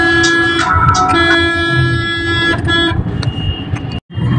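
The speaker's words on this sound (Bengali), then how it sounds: "এখনো খানিকটা জ্যাম আছে" A traffic jam on NH 35, the Bangaon road, with cars, vans and e-rickshaws. Repeated loud car horns honk in short overlapping bursts over a constant engine and road din.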